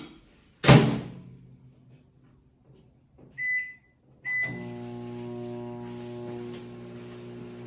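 A door thuds shut, two electronic beeps follow, then a microwave oven starts humming steadily, close and continuous.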